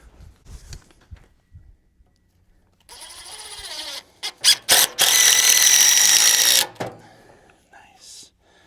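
A power drill drives a screw into a warped board in a shipping-container workshop: a few short trigger blips, then a sustained whining run, all close and loud, with faint voices before it.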